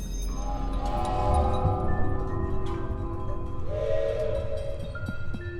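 Steady rumbling of a train cart in the video game Tandem: A Tale of Shadows, with sustained whistle-like tones over it, running continuously and fairly loud, with no talking.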